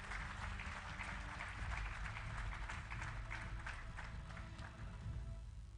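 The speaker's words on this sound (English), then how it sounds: "please give them a big round of applause" An audience applauds steadily, a dense wash of clapping that holds for several seconds before easing slightly.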